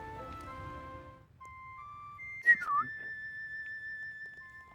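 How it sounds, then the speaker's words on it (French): A synthetic whistle from Dragon Quest Builders 2: a short rising-falling chirp followed by a long steady tone, after a burst of layered electronic notes. "si on active le sifflement"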